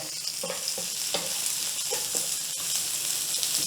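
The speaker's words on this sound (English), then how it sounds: "Get our onions and garlic in." Onions and garlic fry in a hot pan for a Philly cheesesteak, a continuous soft sizzle broken by light stirring scrapes and taps, no voices.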